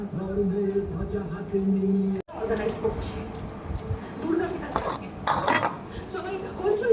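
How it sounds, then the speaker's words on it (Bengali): Someone mixes puffed rice (muri) with boiled potato in a bowl, with clinks of the bowl and spoon and a soft crunching stir. A person talks over most of it. "চলো মুড়িটা সাইজ করে মাখি আগে।"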